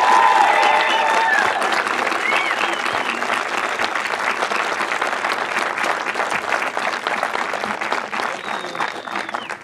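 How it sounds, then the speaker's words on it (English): Sustained applause from a concert audience for a choir and band, steady dense clapping throughout that eases slightly toward the end. "Round of applause for Mr. Ahrens!"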